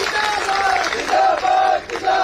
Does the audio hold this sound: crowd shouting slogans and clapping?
yes